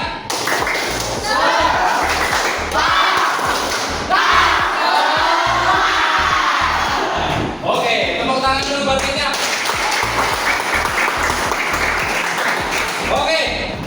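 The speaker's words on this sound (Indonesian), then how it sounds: "Kita tepuk semangat." A classroom group performs a tepuk semangat clapping chant, rhythmic claps and taps in patterned bursts with children's voices chanting along throughout.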